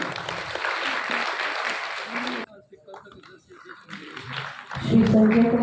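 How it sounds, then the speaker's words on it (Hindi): An audience in a Patna auditorium at a World Soil Day farmers' event claps briefly for about two seconds, then the sound drops to quiet room noise before voices and music return. "जोरदार तालियां बजनी चाहिए।"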